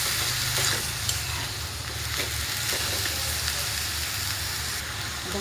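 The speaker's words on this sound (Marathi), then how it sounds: "सुरुवातीला मटकी पूर्ण छान अशी भाजून घ्यायची तेलामध्ये" Sprouted moth beans roasting in hot oil with spices in a pan, a loud, steady close sizzle with faint scraping taps of stirring now and then, no talking.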